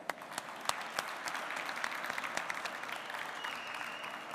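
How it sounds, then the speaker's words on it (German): Steady audience applause fills a lecture hall at a university event for bachelor's and master's thesis pitches in science and geoinnovation, with dense clapping holding an even level throughout. "Ich glaube, das ist noch mal ein Applaus wert."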